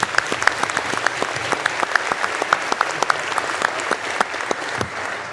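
A commencement crowd at the Missouri S&T fall 2021 ceremony breaks into sustained applause, dense and steady with crisp individual claps popping through, loud and filling the hall without talk.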